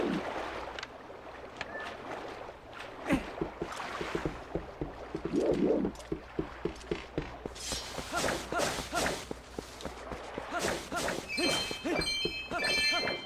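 Rhythmic paddle strokes of a boat in The Legend of Zelda: Twilight Princess on GameCube, a steady series of splashy water pulls repeating under game ambience, with a brief chiming sound near the end.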